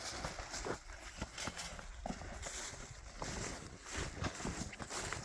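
A homemade DTZ 504 tractor, built on a T25, runs steadily close by while sowing wheat, a continuous rumbling engine drone with rattling and clanking mixed through it.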